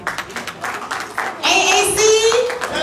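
Applause from the audience at a town hall meeting and fundraiser in Manchester, UK, rising suddenly after a speaker's voice and holding steady as a dense clatter of clapping hands.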